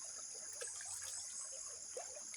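Shallow creek water trickling faintly and steadily, soft bubbling dribbles without a break, heard from close by at low volume.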